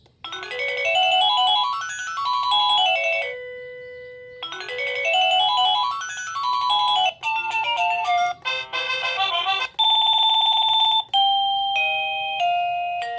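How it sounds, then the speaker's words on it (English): A series of electronic chimes from a Spotcam Video Doorbell 2 chime speaker, one ringtone after another: a repeated rising-and-falling tune, then several short tonal ding patterns, clear and close with no talking. "There's also a Chime speaker with multiple ringtones and adjustable volume."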